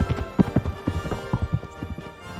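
Horse hooves clip-clopping in the medieval game Kingdom Come: Deliverance, a steady, loud, bass-heavy trotting rhythm of many close hoof strikes with no talk.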